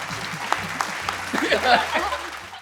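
A small group applauds the winner of a memory game, with a short burst of clapping, some chuckles and voices mixed in, fairly close and lively before fading.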